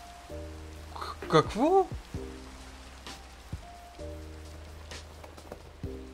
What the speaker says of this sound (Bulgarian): Почна да вали.